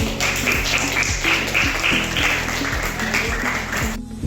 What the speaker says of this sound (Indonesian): tepuk tangan untuk kelompok Sari